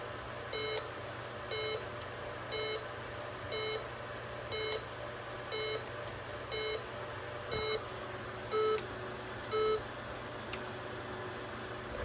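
A Honeywell alarm panel sounds short electronic beeps at a steady pace, about one each second, as it arms, ending in a slightly different tone before going quiet; the beeps are clear against a faint background hum.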